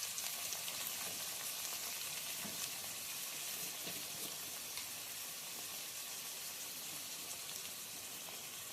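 Pomfret fish sizzling and frying in hot oil with mustard-poppy seed paste and turmeric, a steady dense crackle with fine spattering pops that stays even throughout, no voices.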